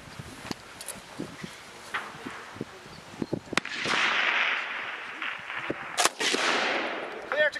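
A historic machine gun fires at an outdoor demonstration range: sharp separate reports and short rapid bursts crack out, some distant and some nearer, with a longer rolling rush of fire near the end and no clear speech.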